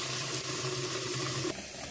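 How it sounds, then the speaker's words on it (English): Tap water running into a pitcher for iced tea, a steady close rushing stream that changes tone near the end as the vessel fills or the flow shifts. "Let's fill it up with some water."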